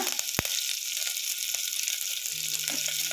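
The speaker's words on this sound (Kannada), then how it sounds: "ನೋಡಿ ಫ್ರೈ ಮಾಡ್ಕೋಬೇಕು ಈ ಥರ ಫ್ರೈ ಆಗಬೇಕು ಸ್ವಲ್ಪ ಬ್ರೌನ್ ಬರಬೇಕು" Dried red chillies and curry leaves fry in hot oil for sambar, giving a steady crackling sizzle throughout with a sharp pop near the start and faint stirring knocks.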